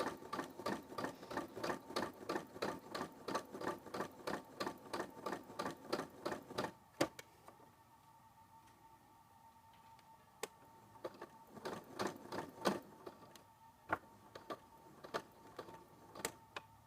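A sewing machine runs a long gathering stitch along a ruffle without backstitching, a fast steady close rattle for about seven seconds, then a pause with a few isolated clicks before a shorter burst of stitching.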